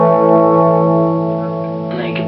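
A guitar amp with the gain (growl) control turned up rings out a sustained, buzzy distorted chord that slowly decays, with a new scratchy strum near the end.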